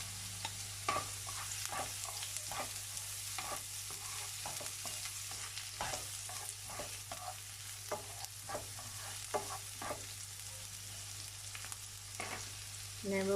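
Onions and garlic for Filipino pancit sizzle steadily in a hot pan, a constant crackling hiss broken by repeated scraping stir strokes, close and moderately loud with no talking.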